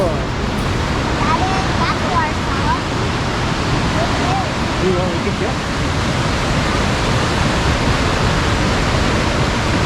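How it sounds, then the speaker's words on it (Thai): A nearby waterfall gives a steady, unbroken roar of rushing water that fills the whole stretch at even loudness, with faint voices just audible beneath it. "ชมวิวน้ำตกแถวนี้ค่ะทุกคน"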